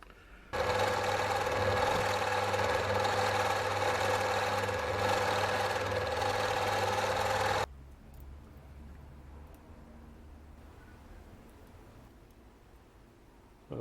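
Lathe running steadily while machining a bush for a modified Gingery dividing head, a loud even motor drone with faint cutting texture that cuts off abruptly, leaving a quieter background hum.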